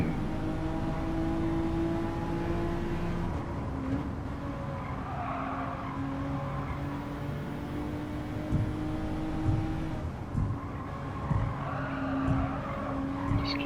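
A race car engine drones steadily in fifth gear through a WTC 600 Tokyo East hard-mode race, with sustained tire noise and faint skidding over the continuous motor hum.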